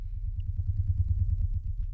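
A metal spoon being rubbed, unprocessed, makes a low, quiet rumbling drone that pulses in quick, even beats, dry and steady with no other sounds.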